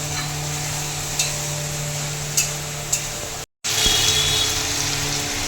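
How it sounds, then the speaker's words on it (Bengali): Spice paste with tomato and prawns sautéing in a pan for a Bengali banana-flower curry, a steady close sizzle with a few sharp stirring scrapes and a brief break before the frying resumes. "এবার ভালো করে মশলাটা কষিয়ে নেব।"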